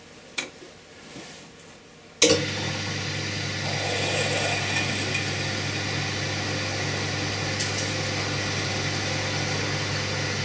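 A drill bit bores a clearance hole through metal plate above a half-inch bar on a sine plate build, starting abruptly after a quiet moment and running as a steady, close, loud machine whine with a constant low hum.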